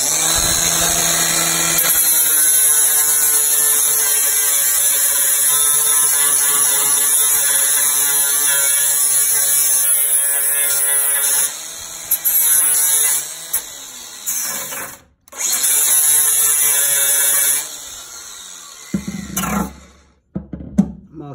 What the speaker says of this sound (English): let me go ahead and sand it first.